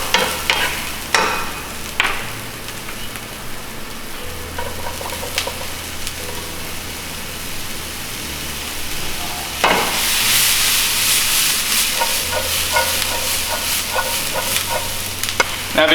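Onion and edamame frying in a pan, with a steady crackling sizzle, repeated utensil knocks and scrapes against the pan, and a louder burst of sizzling partway through as the stirring continues.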